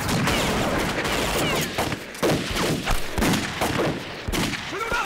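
Gunfire in a war film battle scene, dense rapid volleys of shots and bursts, loud and continuous with brief lulls, over a noisy battlefield background.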